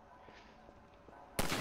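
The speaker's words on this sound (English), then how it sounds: "Let me shoot out the latch." A single sharp rifle shot in Half-Life 2, aimed at a ladder latch, bursts out loudly near the end after a quiet stretch with faint soft knocks.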